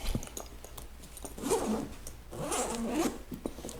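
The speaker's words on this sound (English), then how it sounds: "business end, we'll unzip it." Zipper on the front pocket of a contractor's tool bag pulled open in two quick rasping strokes, the second longer, close up with light handling noise and no speech.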